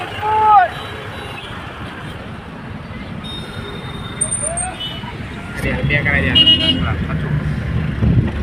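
Inside an Eeco van riding toward Siddhpur amid fair-day traffic, a low engine and road rumble runs under chatter, with passing horn toots and growing traffic noise toward the end.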